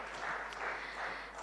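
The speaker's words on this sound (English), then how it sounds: "A nice big round of applause." Applause from an audience at a South India media summit: a faint, steady patter of clapping from a crowd, heard at a distance and unbroken.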